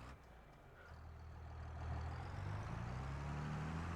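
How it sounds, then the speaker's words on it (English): A tractor engine in Farming Simulator 25 starts and settles into a running drone, the low engine tone rising and growing louder over a few seconds. "let's get one of these tractors fired up"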